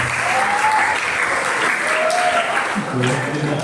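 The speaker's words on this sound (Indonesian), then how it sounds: "Tepuk tangan dulu untuk Pak Agus." A room of students and teachers at a school student-council gathering applauds steadily and loudly, with a few voices talking faintly beneath the dense clapping.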